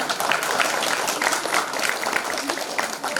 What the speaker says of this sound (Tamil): உங்களுடைய கரகோஷத்தினால உங்களுடைய நமஸ்காரங்களை அவருக்கு தெரிவிக்கணும்.